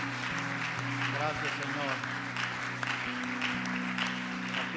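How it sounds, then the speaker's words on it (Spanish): Applause of praise at a Spanish-language church service, a congregation clapping steadily and fairly close for a few seconds while a voice speaks over it and music plays underneath. "¿Puedes darle un aplauso de alabanza a Jesús?"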